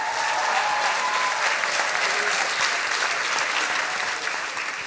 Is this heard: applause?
yes